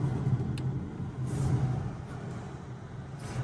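Polestar 2 rear-wheel-drive electric car on a test drive, a steady low road and cabin rumble with a soft hiss and brief faint clicks, continuous at moderate level with no talk.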